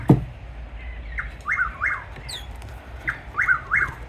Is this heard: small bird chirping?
yes